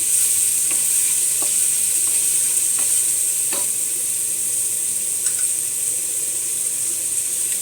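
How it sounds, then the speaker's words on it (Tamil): Onions for chicken biryani sauté in a pan with a steady, loud sizzling hiss, broken by a few light stirring scrapes. "வெங்காயம் நல்லா வதங்கணும் இல்லையா?"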